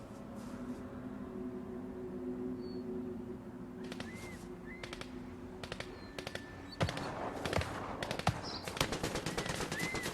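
Bursts of rapid gunfire crackle in Fortnite, scattered at first then dense and repeated over a low droning ambient hum.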